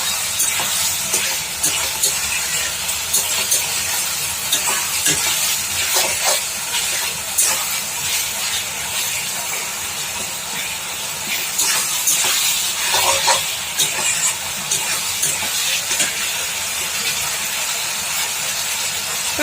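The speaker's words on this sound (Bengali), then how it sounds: "একটু ভালো করে কষিয়ে নেব।" Chilli chicken sauce for a Bengali-style dish sizzles and hisses steadily in a hot pan while being sautéed, a loud, constant frying sound with occasional stirring scrapes and no voices.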